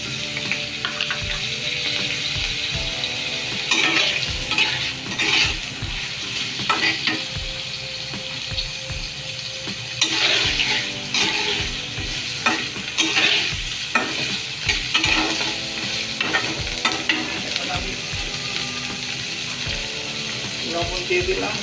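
Onions frying with garlic and ginger paste for Bengali egg bhuna, a loud continuous sizzle with rhythmic spatula scrapes and knocks against the pan throughout, no talk.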